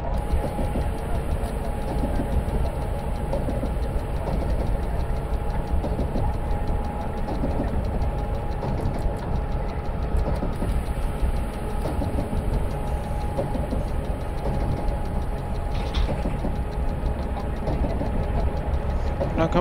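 A train in Train Simulator Romania draws in on the Calimanesti to Babeni line, giving a continuous loud rumble and engine hum with faint clickety-clack under it and no voices.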